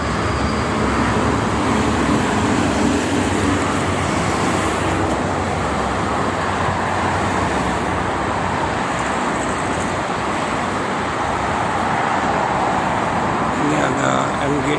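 Steady morning traffic of private cars and tour buses rolling along the Jakarta-Cikampek toll road, a continuous loud wash of tyre and engine noise with no pauses.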